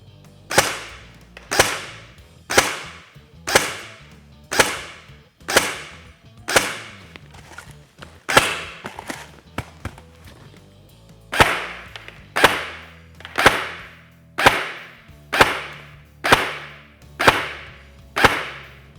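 A Classic Army DT-4 double barrel AR-style airsoft rifle on a Specna Arms LiPo battery fires BBs through a chronograph, one barrel at a time, giving about twenty sharp, loud, evenly spaced cracks, each with a short decay.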